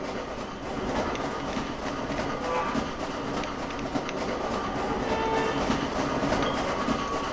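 A train in a video game rumbles along with a continuous clattering roar, rail clicks and metallic rattles holding steady throughout, fairly loud and close.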